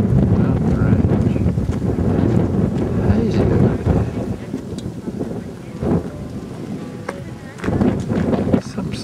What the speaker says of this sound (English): it's a very windy and cold day